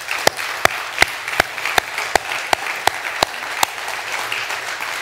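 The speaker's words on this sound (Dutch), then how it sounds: "Even een applaus voor iedereen die achter de schermen heel veel geeft." A church congregation applauds at a New Year's Eve service, with a steady wash of clapping and a dozen sharp, evenly spaced claps standing out near the microphone.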